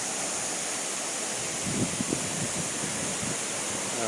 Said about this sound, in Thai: ถึงหน้าผา หน้าผาสูงชันน้ำตก สร้อยสวรรค์